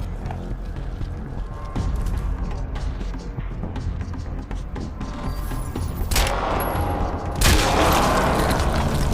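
Two sharp, loud sniper rifle shots ring out, one after the other, in the PC game Crysis 2, over a constant bed of game noise and rumble.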